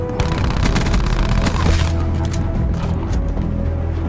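Switchblade X9 SMG fire in a video game comes as rapid, dense automatic bursts, loud and close, with sharp repeated cracks over booming low rumble and brief pauses between volleys.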